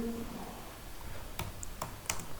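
A computer keyboard typing a formula into a spreadsheet, heard as a few sparse, faint key clicks over a quiet background hiss.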